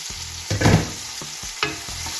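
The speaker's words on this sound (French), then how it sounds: "Et on va laisser dorer tout ça une quinzaine de minutes." Chicken browns in a frying pan for a Basque-style chicken dish, with a steady sizzle under several close scraping stir strokes.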